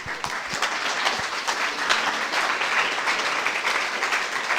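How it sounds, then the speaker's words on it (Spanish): A church congregation applauds together, steady clapping at moderate loudness that carries through the whole stretch in a reverberant room, with no speech over it. "Denle un fuerte aplauso al Señor."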